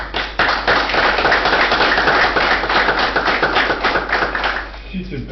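An audience at a council meeting claps steadily and loudly for about five seconds, a dense patter of many hands that fades out at the end.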